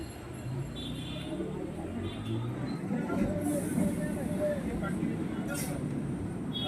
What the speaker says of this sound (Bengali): ট্রেন ঢুকলো